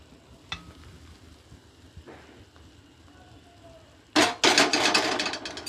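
Ghee is poured into a dilkhush mixture, setting off a sudden loud burst of sizzling in the last second and a half, after a quiet stretch with a few faint clinks.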